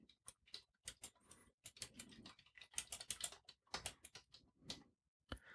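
Typing on a computer keyboard, a quick irregular run of crisp, close key clicks with short pauses between bursts, heard alone.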